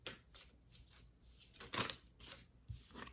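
Tarot cards are shuffled up close in a series of quick, soft riffling bursts, quiet and irregular, with no talking.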